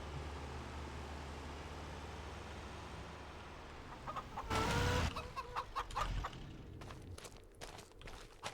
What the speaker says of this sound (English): I gotta sell all my chickens first.